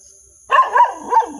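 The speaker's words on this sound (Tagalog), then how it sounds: "May alagang aso tol." A pet dog barks three times in quick succession, close and fairly loud, with a steady high electronic whine in the background and no talking.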